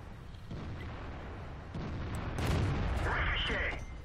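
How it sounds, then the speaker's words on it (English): In World of Tanks, a shell fired by or at an AMX 1390 ricochets off a tank's armor as a heavy thud, then a ringing metallic whine over a steady engine rumble. "Ricochet."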